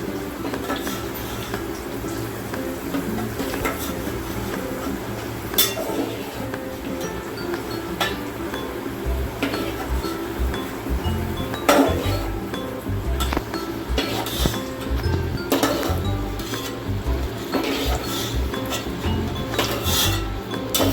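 Golden fried vegetables for a soybean veg biryani are lifted out onto a plate, with repeated close clinks of utensils against dishes and light kitchen handling throughout, no talk.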